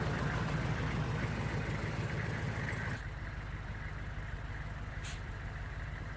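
A car on a road, from a film, a steady engine and road rumble up close that drops somewhat in level midway and then carries on more quietly.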